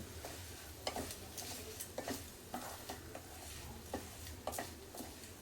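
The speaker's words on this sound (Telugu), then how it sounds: "ఒక్కసారి ఇలా మిక్స్ చేసేసుకుందాము" A chutney mixture is stirred in a pan over a low background sizzle. A spoon scrapes the pan in soft, irregular strokes about once a second, close and fairly quiet.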